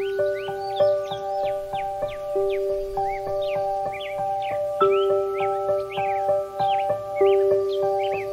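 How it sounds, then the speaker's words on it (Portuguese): Birds chirp and call in quick, high bursts over a steady, sustained musical tone, with no voices. "Canto dos Pássaros."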